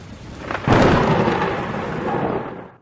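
Sudden loud thunderclap from a thunderstorm that rolls and rumbles for a couple of seconds before fading away, with a light rain hiss underneath, heard as a sound effect in a Thomas & Friends children's story app.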